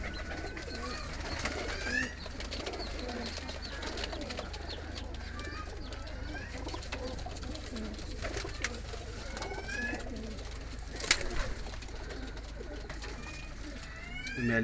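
Steady low cooing of pigeons amid a busy, noisy background with rustling and occasional sharp chirps.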